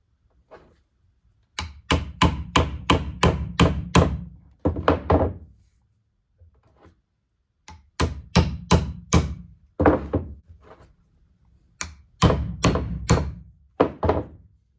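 Rapid series of hard metallic hammer taps on the caps of a ball joint on a 2000 Ford Excursion, in bursts, each strike sharp and close, with short pauses between rounds of tapping.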